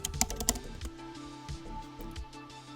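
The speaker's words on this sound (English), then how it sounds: "I'm gonna type in spring." Keys clatter on a computer keyboard as a short word is typed: a quick burst of close clicks at the start, then a few scattered soft taps over a low, steady background hum.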